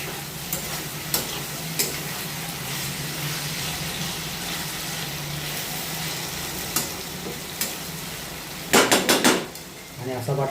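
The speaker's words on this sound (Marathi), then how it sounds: "ह्याला फक्त नुसतं आता फ्राय करायचं. हळूहळू हळूहळू फिरवत करायचं त्याला" Potatoes frying in a pan for a spiced side dish, a steady close sizzle with a spoon stirring and scraping, and a burst of clattering utensil taps near the end.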